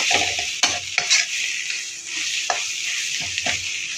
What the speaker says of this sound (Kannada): ಈ ಥರ ಮೆಂತ್ಯ ಫ್ರೈ ಮಾಡ್ಕೊಳ್ಳಿ